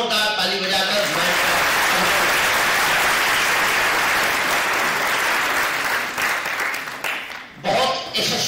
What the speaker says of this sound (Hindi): मैं आप सभी से निवेदन करूंगा कि जोरदार ताली बजाकर